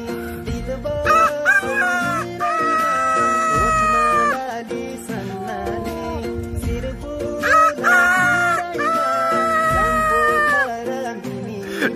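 A man imitates a rooster crowing, two long vocal crows in succession with rising and sustained pitched calls, loud and close.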